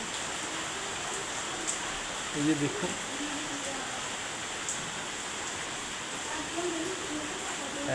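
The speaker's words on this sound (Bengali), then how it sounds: "এই দেখুন ঝমঝম করে বৃষ্টি হচ্ছে" Steady hiss of heavy rain pouring down in Kolkata, broad and constant, with someone speaking briefly over it.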